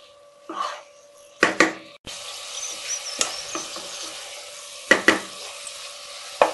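Water lily stems being stirred with mustard paste in a frying pan, giving intermittent scraping and clattering stirs over a soft, steady sizzle.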